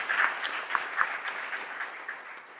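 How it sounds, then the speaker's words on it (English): Light applause from a small group, a thin patter of claps that stays fairly even and fades slightly toward the end. "So please, a round of applause to them."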